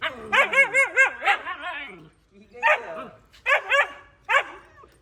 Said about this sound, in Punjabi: ਇਹਦੀ ਭੌਂਕਣੀ ਜਿਵੇਂ ਬਰੌਨੀ ਵਰਗੀ ਆ